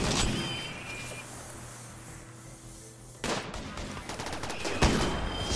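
Gunfire in the colony-building game RimWorld, as androids fight a battle: a dense stretch of rapid, crackling shots erupts partway through and keeps rattling loudly, with a heavier blast near the end.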